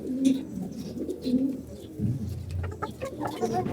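Domestic Makra pigeons coo in a loft, low throaty calls repeating close by in steady bursts, with soft rustling and shuffling in between.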